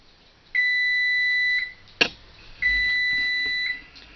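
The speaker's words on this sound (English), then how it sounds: "our timer's going off" A kitchen timer goes off while Boston brown bread steams in coffee cans, sounding two long, loud electronic beeps about a second each, split by a sharp click, close and with no talking.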